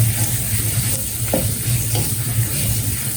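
Chopped garlic sweating gently in a pan gives a steady, close sizzle and hiss that runs the whole time, with a few soft stirring scrapes and no talk.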